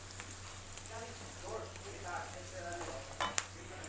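Carrots frying in a pan for fried rice made from leftover rice, heard as a faint sizzle with soft stirring and a couple of sharper utensil clicks near the end, over a low steady hum.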